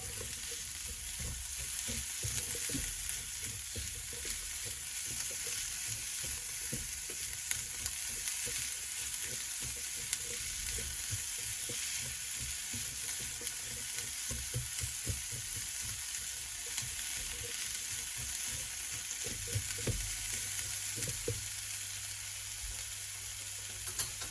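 Thinly sliced sweet red peppers sizzle steadily in a frying pan for a long stretch, with a constant hiss broken by frequent scraping and clattering as they are stirred, close and moderately loud, with no talking.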